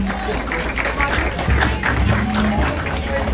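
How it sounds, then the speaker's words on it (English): A crowd at a Diwali celebration in Ottawa gives a round of applause as a local realtor is welcomed; loud, dense clapping mixed with crowd noise and some talk. "Give them a round of applause."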